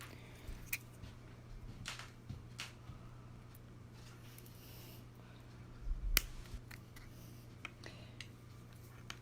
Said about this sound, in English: so now we're going to trim.